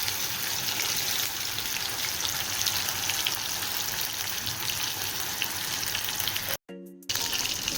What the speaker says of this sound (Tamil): எடுத்து வச்சுருக்க ஃபிஷ் ஃப்ரை எண்ணெயில் போட்டுடலாம்